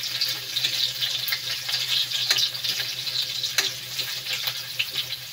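Garlic frying in a pan for pork binagoongan, a steady close crackle and sizzle with occasional sharper clicks of stirring, no voices.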